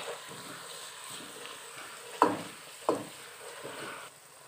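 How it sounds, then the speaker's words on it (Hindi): Ginger garlic paste stirred with a spoon in a pan, giving a soft steady sizzle with two sharp scraping knocks of the spoon against the pan. "अब हम इसमें ऐड कर देंगे अदरक और लहसुन का पेस्ट और इसे हम चम्मच की मदद से अच्छी तरह मिक्स कर लेंगे।"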